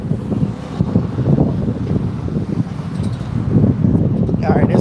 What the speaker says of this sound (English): All right, it's really windy.